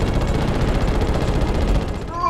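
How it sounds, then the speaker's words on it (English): Jet plane machine guns in the video game Ratchet and Clank firing in a dense, rapid, continuous burst of loud pulses that tails off at the end. "Square button to fire the machine guns."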